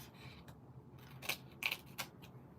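Scissors trim paper for a handmade floating flower card, giving a few quick, crisp snips close by in an otherwise quiet room with no voices.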